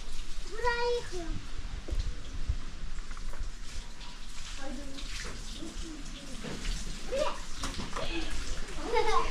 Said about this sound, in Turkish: Şimdi de çok şükür klimamızı yıkayıp inşallah temizliğine kavuşturacağız